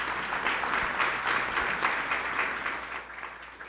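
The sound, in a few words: audience applause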